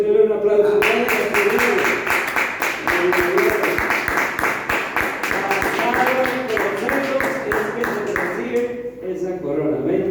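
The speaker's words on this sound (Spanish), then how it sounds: "Denle un aplauso." A church congregation applauds at an evangelical service, a dense, steady run of many hands clapping for about eight seconds before fading out, with voices and music mixed underneath.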